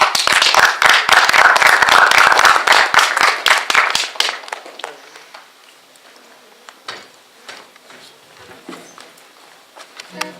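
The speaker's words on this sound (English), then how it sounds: "can we please give a big, big, big round of applause to Alexander Montalvo" Audience applause for a performer after a cover of One Republic's "Counting Stars", loud and dense for about four seconds, then quickly thinning to a few scattered claps and faint murmuring.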